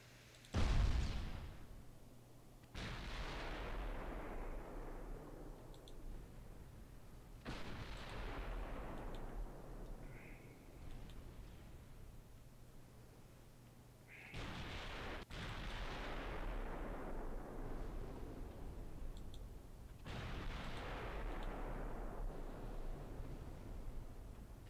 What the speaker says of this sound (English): you're firing at the maximum extent of your range